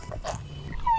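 A dog in a video game gives short whimpering yips and a brief whine, close and fairly clear over a low game background.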